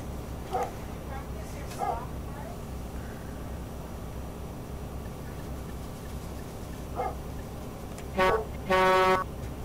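Loud air horn of a Volvo F10 Globetrotter truck in Euro Truck Simulator 2, a few short blasts near the end, the last one longest, over a steady low engine drone inside the cab.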